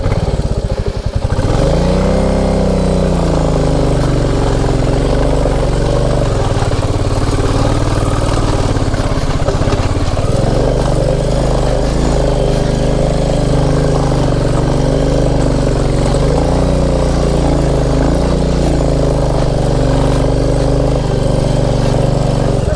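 A Royal Enfield Bullet motorcycle engine runs steadily close by, a continuous low throbbing rumble that starts after a brief pause and holds for the rest of the ride with only small shifts in pitch.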